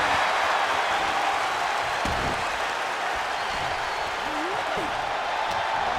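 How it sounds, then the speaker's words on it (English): A video game wrestling crowd in WWE 2K24 roars in a broad, steady wash of cheering and applause that holds throughout, with faint commentary murmuring underneath. "A deafening cheer from the WWE Universe is reverberating around us."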